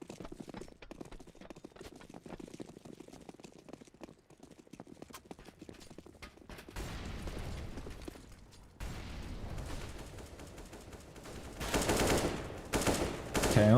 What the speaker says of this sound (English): Chaos missing his first initial shot, and Venom managing to tag him down